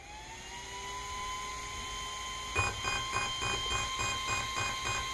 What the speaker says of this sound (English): right there you hear the beeps